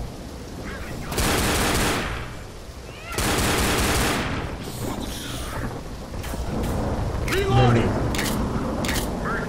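Mounted machine gun firing in Left 4 Dead, loud sustained bursts of rapid fire in two long runs, then scattered shots and game noise with voices talking over the later part.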